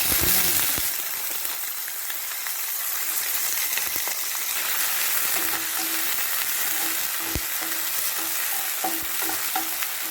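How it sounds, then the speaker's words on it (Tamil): Fennel seeds and curry leaves splutter and sizzle in hot oil for a chicken liver masala, a dense continuous crackle up close with scattered sharp pops throughout. "சோம்பு பொங்கிட்டு கருவேப்பிலை பொங்கிட்டேன்."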